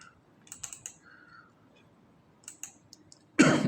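Close computer keyboard typing in short bursts of clicks separated by quiet pauses, with a louder clatter at the end, while someone sets up user groups on Windows Server.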